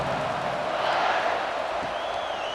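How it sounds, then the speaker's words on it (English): A stadium crowd roars steadily during a college football game between Texas and Texas A&M as the kickoff team takes the field, forming a dense, continuous wash of cheering and whooping that swells slightly midway. "you think this crowd's going to get loud when their defense comes on the field?"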